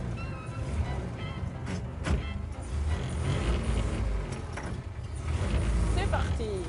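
A vintage car from an ecomuseum in Fourmies, called a moutonnière, starts moving off with a low mechanical rumble and clunks and rattles of its bodywork, while people talk over it.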